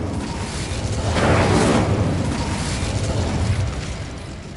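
A fire spell cast in Hogwarts Legacy on PS5 erupts as a single whooshing, roaring burst that swells to a peak and then rumbles on, fading slowly over several seconds with no voices.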